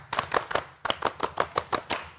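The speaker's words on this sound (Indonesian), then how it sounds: "Iki apa? Tepuk Pramuka." A group performs Tepuk Pramuka, the Indonesian scout rhythmic clap, with about a dozen sharp, even claps in two quick patterned phrases, separated by a brief break, close and fairly loud.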